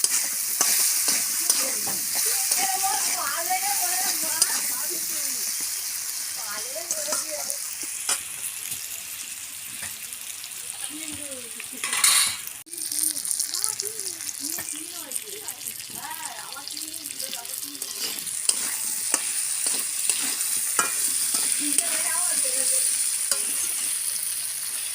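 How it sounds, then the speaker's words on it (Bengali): Turmeric powder and salt frying in oil for a spicy green-banana curry, a continuous close sizzle with a spatula scraping and stirring through it, a brief splash of running water midway, and faint voices at times. "হলুদ গুঁড়ো, নুন, ভালো করে ভেজে নিই।"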